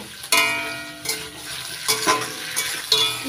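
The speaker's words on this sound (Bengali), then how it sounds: "এবার হাই ফ্লেমে 2 মিনিট ভেজে নেব।" Capsicum tossed in a pan over high flame for soya chilli, with a sizzling hiss under several sharp metal stirring scrapes and clinks spread across a few seconds, close and fairly loud.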